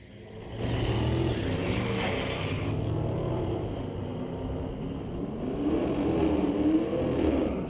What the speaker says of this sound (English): a little Dodge Challenger taking on a Silverado. 6-liter Silverado.